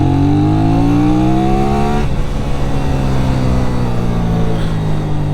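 Benelli Tornado 550 motorcycle engine pulling hard under acceleration, its rising tone dropping at a gear shift and then climbing again, loud and close with wind rush and no talking.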